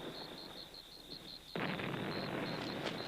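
Distant explosions from a Union attack during the Civil War, a dull rumbling burst that swells abruptly and lingers as a sustained low roar over a faint steady tone.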